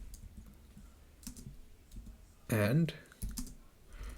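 Computer keyboard keys tap in short, light bursts while writing Python code, soft clicks scattered under a nearby man's quiet speech.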